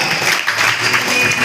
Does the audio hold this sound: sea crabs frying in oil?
no